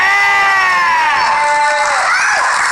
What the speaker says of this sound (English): Throaty crowd here today.